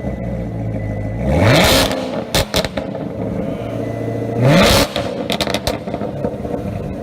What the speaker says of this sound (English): This is what the new Corvette ZR1 sounds like when it revs up.